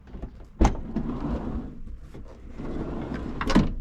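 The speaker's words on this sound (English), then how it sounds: "let's open the side door." The sliding side door of a Toyota Roomy or Suzuki Solio compact car opens with a sharp latch clunk, a long rolling slide, and a second thud as it reaches the end, heard close up.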